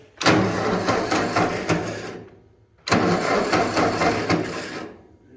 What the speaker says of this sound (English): We'll turn the ignition on, open the throttle a little bit, pull the choke.